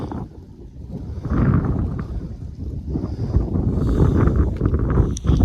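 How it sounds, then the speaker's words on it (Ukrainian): Steady wind buffeting the microphone, a low roaring rush that swells and stays loud, with no voices. "задрав цей вітер вже, блін"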